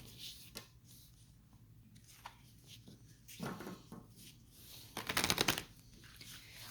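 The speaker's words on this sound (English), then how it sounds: "So I'm just going to start shuffling" Tarot cards are shuffled close up in a quiet room, with soft riffles and slides building to a louder, busier shuffling burst near the end.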